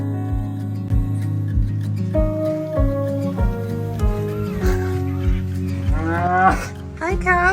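Cows low repeatedly beside the Camino Francés trail, close and loud, in a run of deep moos that rise in pitch toward the end, with no talk over them.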